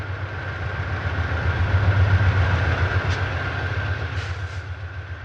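Santa Fe diesel locomotives in blue and yellow bookend and yellow bonnet paint rumble past on the Tehachapi line, a steady heavy low engine drone with a faint tonal whine and no talking.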